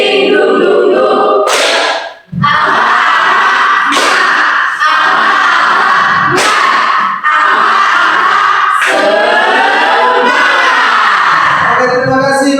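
Students in a Catholic high school class perform the tepuk semangat clapping chant, loud crowded voices shouting in rhythm with sharp claps and bursts, filling the room.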